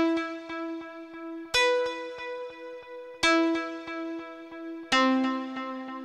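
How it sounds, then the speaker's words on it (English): A Nexus GT FM Guitar 4 synth guitar preset with no effects plays a repeating plucked pattern of bright, clean harmonic notes. Sharper accented chord hits land about every 1.7 seconds, with no voices. "This is a guitar preset from Nexus."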